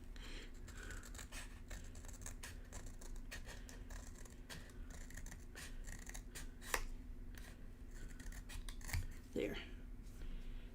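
Scissors snip through paper at close range in a series of small irregular cuts, with a steady low hum underneath and occasional rustling handling noises.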